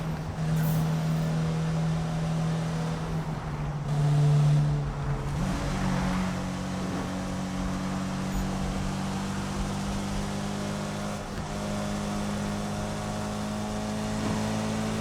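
A car engine drones steadily as it drives in the PC racing game Need for Speed, a loud, sustained hum that rises briefly with revving and carries on under a constant wash of road noise.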